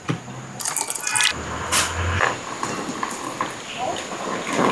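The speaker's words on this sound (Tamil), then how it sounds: "இப்போ இதில் தண்ணி ஊற்றி கட்டிப்பால் எடுத்துக்குவோம்." Grated coconut mixed with water is squeezed by hand to press out thick coconut milk, giving close wet squishing and dripping splashes. Talk runs over the sounds.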